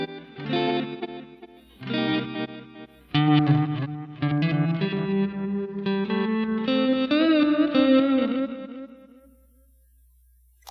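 Electric guitar notes run through the reverse delay setting of a Source Audio Collider pedal with the mix turned up and modulation down, giving swelling, backward-sounding repeats that build and then fade out slowly at the end.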